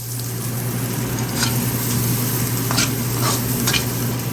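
Oil rendering out in a frying pan as the base for monggo, a steady close sizzle with soft stirring scrapes running the whole time, no voices.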